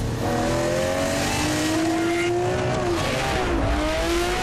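A loud, close Lamborghini Murcielago SV engine roars as it accelerates hard, pitch climbing steadily with brief dips at gear changes, with road noise underneath.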